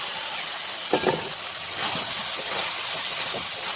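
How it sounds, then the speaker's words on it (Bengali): Soybean chunks hit hot oil with fried chili powder, coriander powder and sugar, setting off a loud, steady sizzling hiss close by, broken by a few sharp clattering knocks as they go in. "মশলাগুলো কষানো হয়ে গেছে, তেল ছেড়েছে, এবার আমি দিয়ে দেবো সয়াবিনগুলো"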